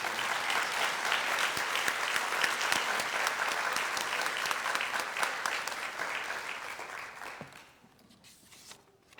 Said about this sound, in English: why don't you guys join me in a round of applause to thank Dr. Browning for his 20 plus years